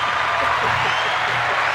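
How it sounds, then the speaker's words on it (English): Audience clapping during a talk about women in male-dominated environments, a steady dense wash of applause filling the whole stretch at even loudness. "You gotta clap for what she said"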